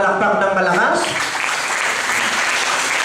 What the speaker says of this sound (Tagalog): Ang nakakaunawa nga po'y pumalakpak ng malakas?